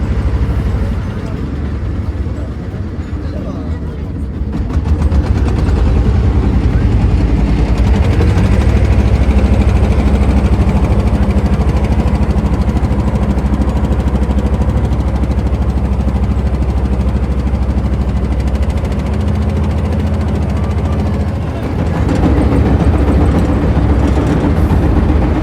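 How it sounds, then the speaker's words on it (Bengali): A tour vessel's engine drones loud and steady as it leaves for Andharmanik Eco-Tourism Center in the Sundarbans. The low rumble continues throughout, with a brief dip, and voices are faint beneath it. "তো আমাদের শিপটি এরই মাঝে ছেড়ে দিল আন্দারমানিক ইকো ট্যুরিজম সেন্টারের উদ্দেশ্যে।"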